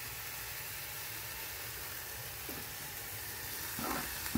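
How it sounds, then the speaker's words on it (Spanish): Chopped onion and paprika frying in a pan, a steady close hiss of sizzling with a brief stirring scrape near the end, no talk. "Mezclamos, sofreímos por un minutito."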